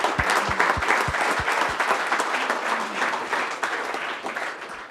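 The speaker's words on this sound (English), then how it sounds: "Everybody give him a round of applause." A roomful of people applauds at a startup pitch event, steady dense clapping close by that holds for the whole stretch and tapers slightly at the end, with no voices.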